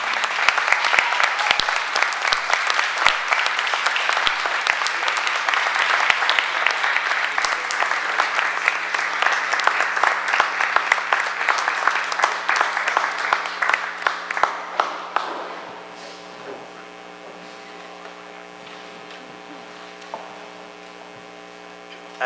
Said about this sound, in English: please join me in a round of applause for our brand school student of the month, Mr. Sean Cologne.